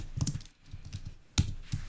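Quick, uneven keyboard typing, a cluster of key clicks, a short pause, then a few sharper, louder keystrokes close to the microphone.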